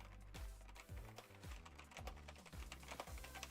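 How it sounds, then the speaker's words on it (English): Computer keyboard typing during a tabletop role-playing game session, rapid clicky keystrokes coming in uneven bursts, fairly close and moderately loud, with no talking. "ignore the typing sound"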